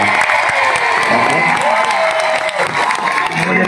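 A crowd at a street political rally claps loudly and continuously, with scattered cheers and voices mixed into the applause.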